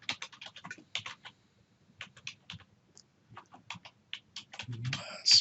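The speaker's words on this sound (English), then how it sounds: "this needs to be typed exactly as you see it" Someone typing on a computer keyboard, bursts of quick close clicking keystrokes with short pauses between them, then a heavier clatter at the end in a quiet room.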